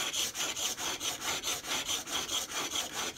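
A spokeshave blade is rubbed back and forth on 280 grit abrasive, making a steady rhythmic scraping of about three strokes per second. The sound is close and fairly quiet, with no voices.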